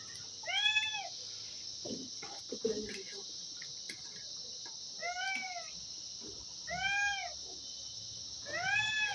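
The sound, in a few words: cat meowing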